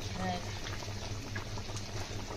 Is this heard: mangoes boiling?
yes